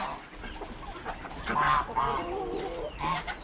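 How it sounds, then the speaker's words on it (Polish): Geese honking and clucking up close as they peck at and shred cabbage, with soft rustling and pecking sounds between the calls. "szatkuje ten gąsior tą kapustę tam na współę z tą gąską Gosią i jej córką"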